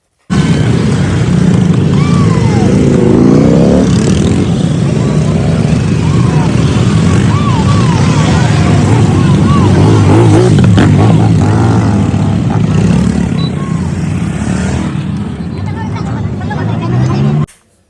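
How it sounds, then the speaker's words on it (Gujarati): A motorcycle rally at the Nadabet India–Pakistan border viewing point in Gujarat passes close by. Loud engines drone and rev for the whole stretch, with crowd noise mixed in underneath. "હવે બાઇક રેલી જોઈ લો બાઇક રેલી કેવી છે એ જોઈ લો"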